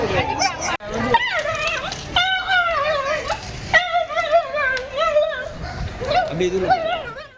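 Dogs whimpering and yelping during a municipal vaccination drive in Chennai, rising high-pitched cries repeating over several seconds, loud and close, with voices talking underneath.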